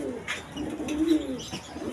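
Pigeons at a bird sale coo close by in soft, throaty bursts, several overlapping calls over quiet background noise.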